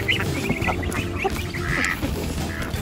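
Ducks and geese on a rural farm quacking and honking continuously in a busy, close flock, with overlapping calls and no clear speech.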